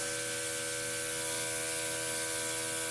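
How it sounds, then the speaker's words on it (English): A malfunctioning makeup spray bottle hisses continuously by itself, a steady, close, unbroken spray of noise with a faint tonal hum underneath and no voices. "It was spraying on its own."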